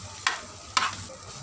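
A spoon stirs coarsely mashed boiled potatoes into frying masala for a samosa filling, giving two short, scraping, sizzling strokes close up over a low background hum, with no talking.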